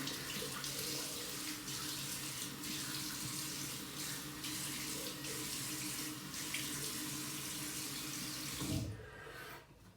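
Tap water runs steadily into a sink while a face is rinsed after shaving, a continuous close splashing stream that cuts off near the end.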